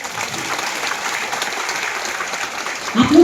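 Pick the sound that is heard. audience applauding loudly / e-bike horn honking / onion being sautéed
audience applauding loudly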